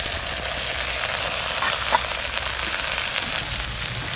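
Greens hitting hot mustard oil with nigella seeds, dried chili and garlic give a loud, dense, continuous sizzle and crackle close up, with no voices over it.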